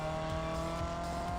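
Racing car engine in the Real Racing 3 video game, holding a steady loud tonal drone with slight pitch wavering through a short, continuous stretch, no talk.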